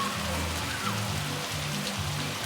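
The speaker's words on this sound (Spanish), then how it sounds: "está lloviendo fuerte" Heavy rain pours steadily at Piedra del Toro, a dense continuous hiss of drops drumming on surfaces with no voices, loud and unbroken throughout.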